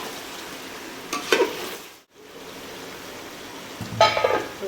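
Native country chicken pulao frying in a pan gives a steady sizzle, with two short bursts of stirring scrapes and clatter, close and moderately loud, briefly dropping out midway.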